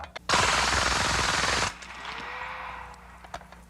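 A fully automatic 10mm handgun fires a loud, rapid burst lasting over a second, then stops sharply, leaving a faint echo and low background noise.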